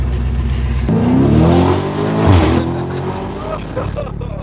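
A Lamborghini accelerates hard on the road, its engine note climbing loudly in rising harmonic sweeps close to the microphone, then easing off.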